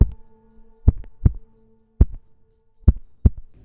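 Duct tape stretched quickly, captured by a good microphone with the lows cut: a series of six punchy, deep thumps at uneven intervals, close and alone, with a faint steady hum between them.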